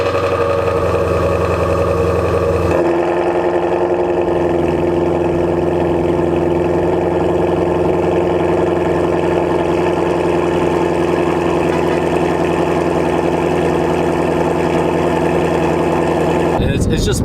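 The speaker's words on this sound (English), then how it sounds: "That's why it's a little bit louder than the regular 350 Shelby 350 stock exhaust." Exhaust note of an idling 2019 Ford Shelby GT350R, a steady, deep, loud burble that holds close and constant throughout with no voices over it.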